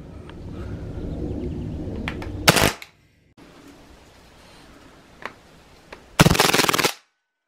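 Hatsan Blitz air rifle fitted with a silencer, firing full auto: two short, rattling bursts of rapid muffled shots a few seconds apart, each ending abruptly, with quieter handling noise between them.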